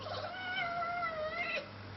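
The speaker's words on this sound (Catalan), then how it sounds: "El gat del productor." A producer's cat meows in one long drawn-out wail, close and fairly loud over a low steady hum, tapering off near the end.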